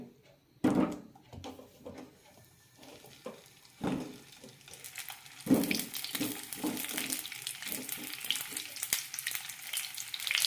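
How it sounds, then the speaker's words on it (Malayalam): Lemons sizzle and spit in sesame oil in a pan, with irregular clinks and scraping as they are stirred, the frying growing louder and more continuous toward the end. "നാരങ്ങ നന്നായി ഫ്രൈ ചെയ്ത് വെക്കാം"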